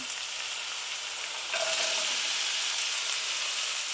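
Celery and carrots fry in a pan for a vegan shepherd's pie with soya mince, a steady, even sizzle heard alone throughout with no voices.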